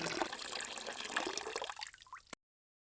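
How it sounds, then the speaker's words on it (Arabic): Almond milk pouring into strawberry juice, a short soft liquid splash and trickle lasting about two seconds before stopping abruptly. "بعدها نضيف نصف كوب من حليب اللوز الشهي والصحي."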